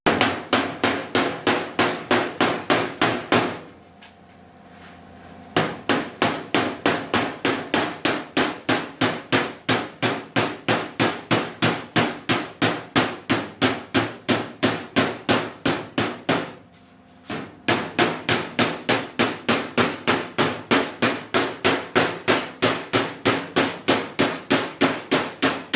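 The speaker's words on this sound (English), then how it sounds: "we place a dolly right there and then just gently begin hammering it over" Steady, rapid hammering of sheet metal over a dolly while repairing a 1955 Chevy truck door, close and loud, with two brief pauses before the regular strikes resume.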